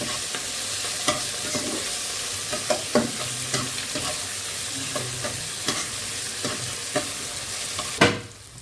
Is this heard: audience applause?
no